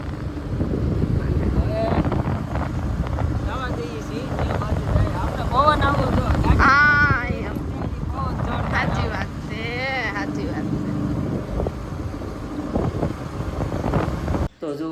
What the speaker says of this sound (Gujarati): પવન મસ્ત આવે છે